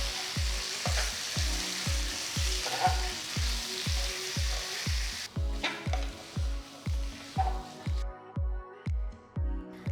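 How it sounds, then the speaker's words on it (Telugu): Marinated prawns fry with golden brown onions for a masala prawn curry, a bright sizzle under a steady thumping musical beat; the frying hiss fades about halfway while the beat carries on. "ఉల్లిపాయలు గోల్డెన్ బ్రౌన్ రంగులోకి మారిన తర్వాత నేను మ్యారినేట్ చేసిన ప్రాన్స్ని ఇందులో వేస్తున్నాను"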